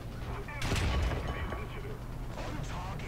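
A single loud, close cannon blast from an M2A4 American light tank in War Thunder bursts out early, then trails off under a steady engine rumble.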